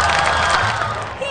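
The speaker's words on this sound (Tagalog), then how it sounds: "hiyawan!" A large crowd at a world record attempt in Kidapawan City erupts in cheering and shouting as the music ends, loud and dense with scattered whoops, then thins briefly near the close.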